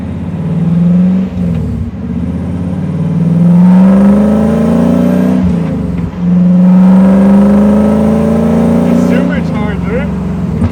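A deep supercharged V8 drift truck engine roars loudly and continuously, its pitch climbing and falling through several rev sweeps, with a brief dip near the middle.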